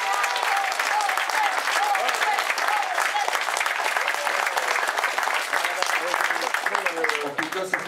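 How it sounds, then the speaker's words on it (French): Steady applause from a crowd greets a rider at a women's cycling stage race ceremony in Radenac, Brittany, a continuous dense patter of clapping beneath an announcer speaking. "Bel accueil une nouvelle fois et de nombreux applaudissements à Audrey Cordon."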